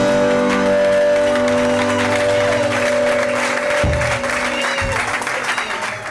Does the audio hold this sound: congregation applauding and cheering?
yes